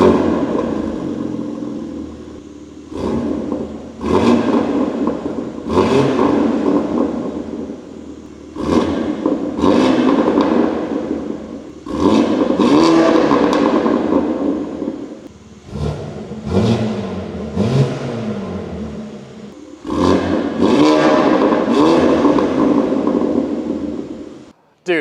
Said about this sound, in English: Dude, this thing actually sounds really, really good. There is absolutely no rasp at all out of this S58